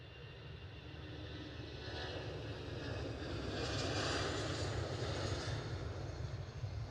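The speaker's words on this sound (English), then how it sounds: "EasyJet on the roll." An EasyJet airliner on its takeoff roll at Edinburgh Airport gives a distant, broad engine roar that slowly swells in loudness and holds steady throughout, with no voices.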